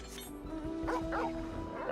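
A dog barking in the video game Final Fantasy XIV, a few short yips and bow-wows close by over a faint tonal game background.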